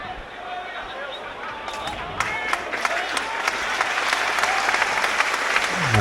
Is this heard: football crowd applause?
yes